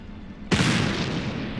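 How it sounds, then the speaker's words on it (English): A sudden loud gunshot-like bang in The Black Mirror 3 video game, a single sharp blast after near silence, followed by a long, broad rumbling decay that lingers to the end. "Sounded like a gunshot."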